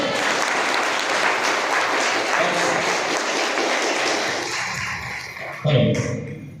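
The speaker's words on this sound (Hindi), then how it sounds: "जोरदार ताली बजा लो सर के लिए" A crowd at a wellness company gathering gives a long, loud round of applause for the managing director, sustained and dense before tapering off, with a brief bump of noise near the end.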